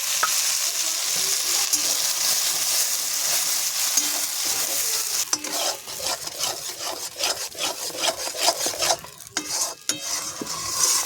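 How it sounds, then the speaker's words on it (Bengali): Taro in hot oil with turmeric gives a continuous, close hiss; about halfway through, rhythmic scraping of a spatula against the pan joins the sizzle. "তেলটা গরম হয়ে গেছে, দিয়ে দেবো কচুটা।"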